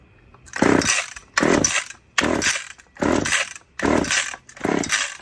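A Stihl or Husqvarna chainsaw engine revs in six short, loud bursts with brief gaps between them, a rough rhythmic roar close by on a chilly night.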